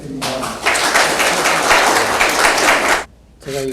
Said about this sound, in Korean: 이코노미 컬처 신임회장으로 취임하시는 이남기 회장님께 많은 박수 부탁드립니다.